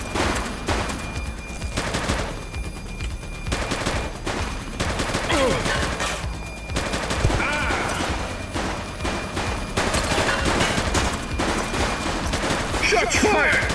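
Sustained gunfire in a police shootout video game, dense volleys of shots that rise and fall across the stretch over busy game sound, with some voices mixed in.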